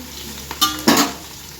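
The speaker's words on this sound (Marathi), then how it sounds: "आता एक 5 मिनटं चांगलं आपण तळून घेऊया मसाला" Masala and onions fry in a pan, a low background sizzle broken by two short, louder bursts of stirring scrapes and hissing near the middle.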